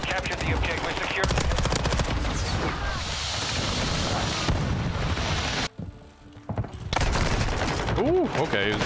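Rapid automatic gunfire and single shots from the TEC-9 and other weapons in the multiplayer shooter Modern Warfare 2, loud bursts with distant booms, while a player talks over the action.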